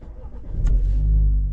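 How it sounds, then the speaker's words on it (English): A BMW car engine starts up and settles into a steady, close idle, a rising low rumble after a brief click. "we turn the car on"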